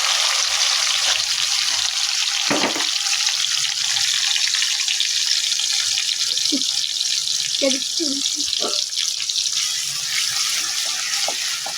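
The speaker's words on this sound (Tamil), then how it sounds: "சின்ன வெங்காயத்தை போடுறோம்." Small onions (shallots) with fennel frying in oil for crab (nandu) gravy, a continuous close hiss and sizzle with occasional stirring clinks, and a voice briefly audible at points.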